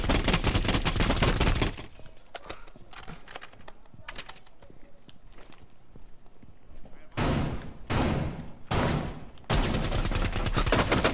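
Rapid automatic gunfire in Rainbow Six Siege, with loud, dense bursts at the start and end and quieter scattered shots and clicks in between.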